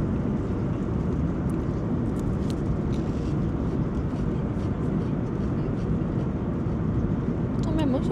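Airplane cabin in flight: a loud, steady broadband engine and air roar fills the whole stretch with no breaks, and faint voices can be heard beneath it.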